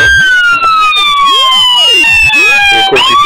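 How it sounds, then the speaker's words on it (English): Loud electronic police siren from a custom 1:18 scale diecast Chevrolet Impala Tennessee State Police car, cycling through rapid wailing and yelping tones that sweep up and down continuously, close and steady throughout. "the siren, like I said, it's the same siren that all the builders pretty much use."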